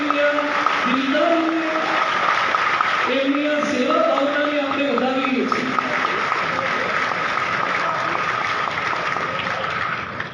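An audience at a BAPS religious discourse gathering, the Manav Utkarsh Mahotsav, claps in a steady, dense wash of applause that runs throughout, with someone speaking loudly over it.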